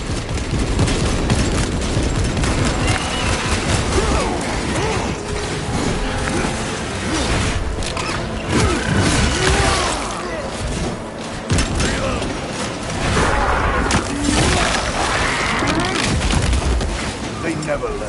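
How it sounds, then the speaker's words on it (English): Grenade blasts and gunfire in the Warhammer 40,000 game Space Marine 2 roar in a dense, continuous barrage of bursts, booms and clattering mechanisms, loud and close throughout, with voices under the din. "Grenades!"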